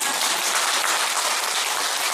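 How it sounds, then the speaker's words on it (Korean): A crowd at a Buddhist temple dharma lecture claps, a dense, even wash of applause lasting the whole moment, fairly loud and close, with no talking over it. "주짓수께 박수 한번 주세요."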